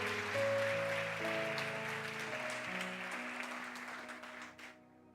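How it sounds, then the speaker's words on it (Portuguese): A church congregation claps during a service while sustained keyboard chords play underneath, the applause moderately loud and steady before fading out near the end. "Você pode aplaudir a Jesus por isso?"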